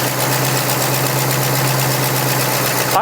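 A Ford F100 truck engine idling, a steady close low rumble with even pulsing throughout, loud and alone.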